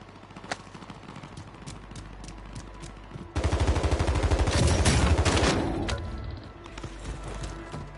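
Enemy gunfire in a video game bursts in as a loud dense volley from about 3.4 s to 5.5 s, then tails off into quieter scattered shots over a steady low game background.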